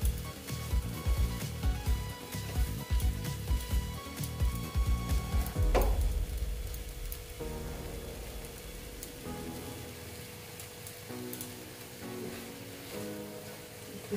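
Lentils fry with spices in a pan, giving a dense crackling sizzle of rapid pops for several seconds, then settling into a softer, steadier hiss.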